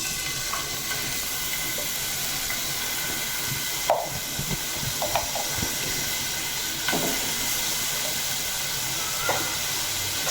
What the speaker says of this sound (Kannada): ಇದನ್ನು ಗೋಲ್ಡನ್ ಬ್ರೌನ್ ಆಗೋ ತನಕ ಫ್ರೈ ಮಾಡ್ತಾ ಇರಬೇಕು